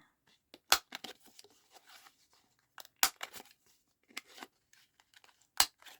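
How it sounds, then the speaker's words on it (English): A craft corner punch snips the corners of a paper junk-journal tag, giving several sharp, close crunching clicks spaced a second or two apart, with faint paper rustling between them and no talking. "So I've just got my corner punch."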